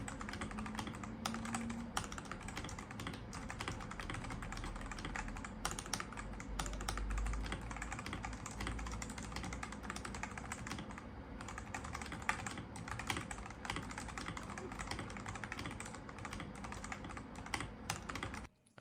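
Steady rapid typing on a Swift82 VortexSeries REVI Hall effect rapid trigger keyboard, a dense stream of light clacky keystrokes, close and continuous for the whole stretch.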